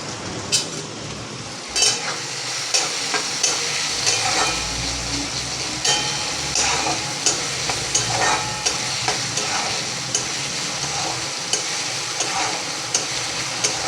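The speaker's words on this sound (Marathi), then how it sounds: "कांदा आपल्याला एकसारखा परतून घ्यायचा" Two finely chopped onions sauté over high heat in a pan, a continuous close sizzle with regular spatula scrapes and light metallic clinks against the pan throughout.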